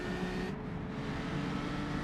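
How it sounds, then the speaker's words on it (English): A historic race car on the Dundrod road circuit gives a low, throaty engine rumble as the throttle opens coming out of a hairpin. One short, steady burst at moderate distance, with no talking. "Nice little rumble as he hit the throttle coming out of the hairpin there too."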